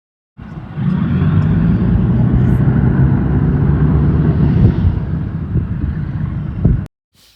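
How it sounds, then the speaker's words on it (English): A lifeboat's engines roar loud and steady at night in Great Yarmouth, a dense low rumble lasting several seconds amid surrounding traffic noise, then cutting off abruptly. "I did just manage to get the roar of the engines for you."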